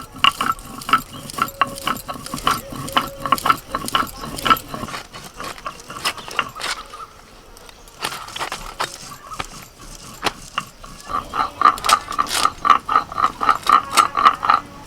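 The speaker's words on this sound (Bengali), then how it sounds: "এবার বেটে নি।" Soaked coriander and cumin seeds being ground into paste make a rhythmic rubbing and knocking that runs almost throughout, loud and close, with a brief lull midway.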